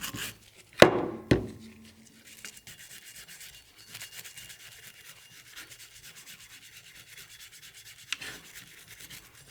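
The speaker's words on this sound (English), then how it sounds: "I'll use this angled part of the brush to get down into the insert and all the threads" Nylon brush scrubbing the threads inside a Vicmarc lathe chuck insert, a close soft scratchy rubbing that continues quietly after two sharper knocks at the start.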